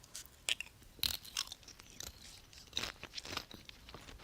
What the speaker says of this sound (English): I'm up here just crunching on Pringles.